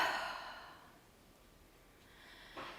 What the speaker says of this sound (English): Take in a nice deep breath